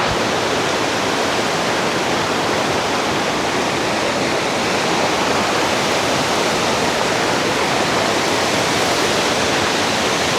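A river stream in Chiang Mai, Thailand, rushing steadily over stones: a loud, close, unbroken wash of water noise that holds constant throughout, with no voices.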